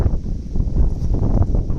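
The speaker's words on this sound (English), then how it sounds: "it is a windy day, as you'll probably hear" Gusty wind on an outdoor windy day buffets the microphone, a low rumbling, fluttering roar that swells and eases over a couple of seconds.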